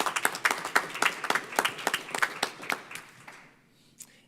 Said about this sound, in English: So everybody give a nice little round of applause for Sarah.